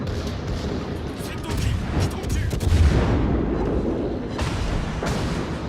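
155mm HE naval guns firing in a naval combat video game, a dense rolling barrage of booms and blasts running continuously, loud and close, with a voice talking over the gunfire.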